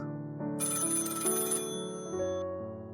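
A phone rings suddenly at midnight, sounding an electronic ringtone melody of bright sustained tones that shift pitch across about three seconds, alone and fairly soft.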